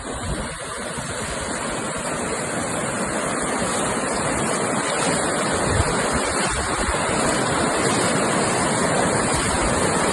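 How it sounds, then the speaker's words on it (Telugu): Heavy floodwater rushes across a road near a dargah by submerged fields, a loud, continuous roaring torrent that stays steady throughout with no voices. "భారీ ప్రవాహం."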